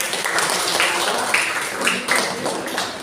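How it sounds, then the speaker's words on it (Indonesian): A classroom of young students claps for a classmate, a dense, steady patter of many small hands lasting a few seconds with a few louder claps standing out. "Kita berikan aplaus untuk"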